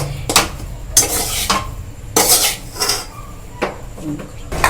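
Sauce is stirred into chicken paratha filling in a pan, with repeated scraping and clattering strokes of a spoon against the cookware, close and loud, arriving in short bursts with brief pauses between them.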